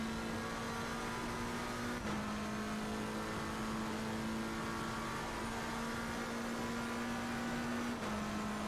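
A race car engine in Assetto Corsa Competizione at Spa gives a steady, high-pitched drone at sustained high revs with wheel spin, small pitch shifts and gear changes, loud and continuous with no voices.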